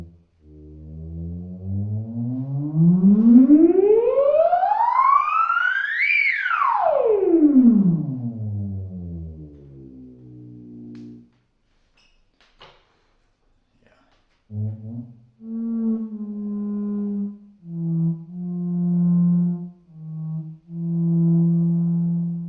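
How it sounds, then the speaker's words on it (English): A Moog Etherwave Plus theremin in its stock sound sweeps a long, smooth, loud gliding tone up to a high peak and back down, then after a pause plays a few sustained, steady lower notes. "you can hear the Theremin as it sounds when you buy it."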